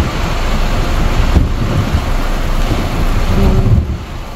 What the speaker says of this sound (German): jetzt haut es aber auch wieder den Regen raus